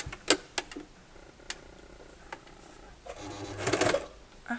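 A sewing machine stitches the side and bottom seams of a fabric bag, with a few isolated clicks and then a short, close burst of fast mechanical whirring.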